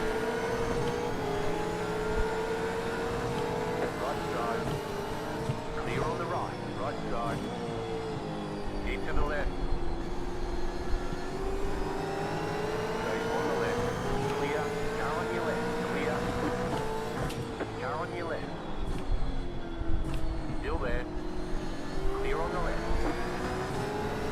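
A racing motorcycle in a 17-bike field in Australia launches and accelerates, its engine note climbing and dropping through repeated gear changes, loud and close with other machines roaring around it.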